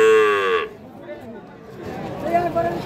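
Bull calves at a livestock sale let out one loud, long moo at close range, then voices talk and chatter over low background noise.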